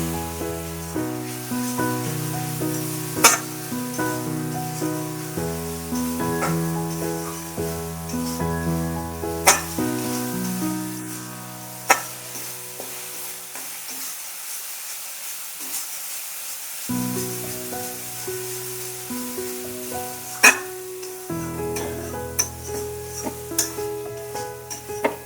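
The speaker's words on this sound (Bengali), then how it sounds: "হলুদ গুঁড়ো দিয়ে দেব। এটা একটু কষিয়ে নেব।" Spices sautéing with turmeric powder in a pan for a dry fish and taro stolon dish, a steady moderate sizzle with occasional sharp stirring clicks, under tonal background music that drops out briefly midway.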